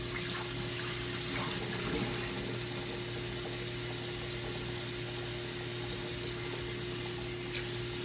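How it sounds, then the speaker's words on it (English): Tap water runs steadily and loudly into a kitchen sink to rinse gritty, sandy food for ceviche, a constant spray with no talk. "Just run water. And you'll see the dirt come out sometimes."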